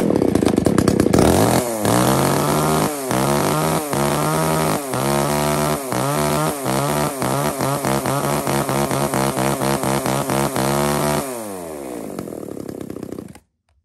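A small 33cc handheld chainsaw, intended for cutting wood about 20 to 25 cm thick, runs loud and close, revving repeatedly in quick bursts before dropping to idle and cutting off.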